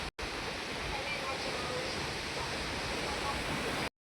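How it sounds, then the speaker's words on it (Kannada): Heavy summer rain pours down in a steady, dense roar, loud and unbroken apart from momentary cut-outs at the very start and end. "ಜೋರಾಯ್ತು ಗೈಸ್, ಇನ್ನೂ ಜೋರಾಯ್ತು ಮಳೆ."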